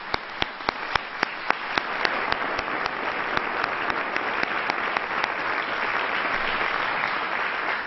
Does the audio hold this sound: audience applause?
yes